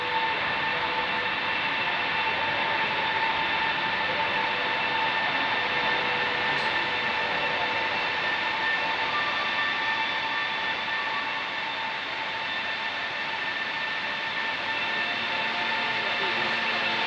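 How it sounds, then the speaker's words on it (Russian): A double-decker passenger train approaches a station platform as a long, steady, rumbling drone that holds at a constant level throughout, with no talking. "Вон он, поезд наш уже едет,"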